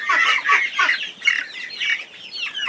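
A Barred Rock chicken on a homestead clucks in a run of close, loud, choppy bursts, alone with no voices.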